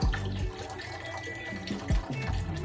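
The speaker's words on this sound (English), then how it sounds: "we're gonna pour this whole 32 ounce of chicken stock in here" A full 32-ounce carton of chicken stock pours steadily into a cooking pot for a Zuppa Toscana, giving a continuous loud splashing gurgle with a few glugs and no talk.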